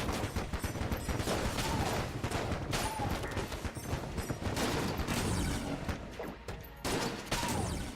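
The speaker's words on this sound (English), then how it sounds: "I do love the mass shotgun table tech sight scatter shot. That's so many bullets." Dense, sustained volleys of mass shotgun scatter-shot gunfire from Enter the Gungeon, with overlapping rapid blasts and impacts packed together loudly across the whole stretch, no voices.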